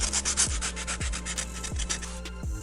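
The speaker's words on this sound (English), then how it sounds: "We're just going to go ahead and sand down the edges just so it's not as bunk as that." Rhythmic back-and-forth hand sanding along the edges of a car air vent piece for a Mazda Miata, a steady close rasp with soft periodic thumps at each stroke change.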